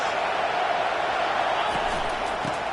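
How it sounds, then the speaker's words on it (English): Steady, dense roar of a football stadium crowd at a game against the Monarchs, loud and continuous throughout with no distinct cheers or peaks. "This crowd bringing the energy and noise early."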